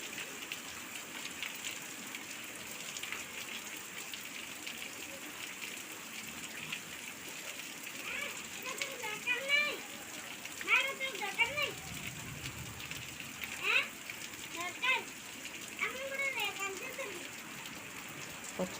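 Heavy rain falls steadily in a broad, continuous hiss, with a person talking over it in the second half.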